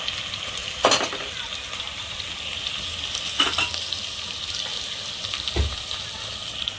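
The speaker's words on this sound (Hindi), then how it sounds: "सारी सब्जियां एक एक करके डालते जाएंगे और चलाते जाएंगे।" Capsicum and carrot fry with a steady, moderate sizzle in a pan as vegetables for pulao are added and stirred, with a few distinct spoon clanks and scrapes, close and without speech.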